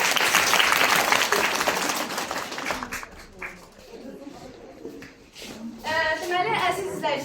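A studio audience claps on a TV talk show stage, a burst of applause that fades after a few seconds, with a woman host's voice speaking over and after it.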